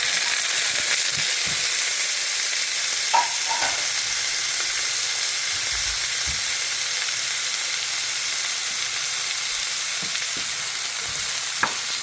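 Cabbage and carrot stir-frying in a hot pan, a steady close sizzle with occasional scrapes and clinks of stirring, with no talk.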